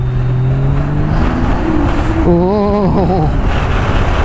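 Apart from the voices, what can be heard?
250 HP Ski-Doo Renegade X-RS turbo snowmobile engine revving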